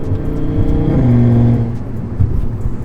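An Audi RS3 exhaust with its valve open rumbles loudly nearby, rising in a deep revving drone before settling back to a throaty idle.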